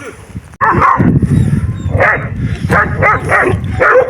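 A dog barks repeatedly in short, loud bursts spaced about half a second to a second apart, close by, with some background noise.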